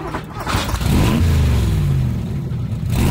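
A car engine revs up into a loud, sustained roar, its pitch climbing and then easing back with a light mechanical clatter underneath, close and continuous for about three seconds.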